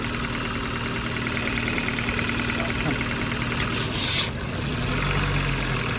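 A car engine idles steadily with its PCV hose removed, a continuous mid-low drone with a faint knocking pulse, close and fairly loud, briefly disturbed by a short hiss of air near the end.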